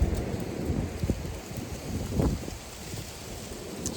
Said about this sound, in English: This wind is crazy today.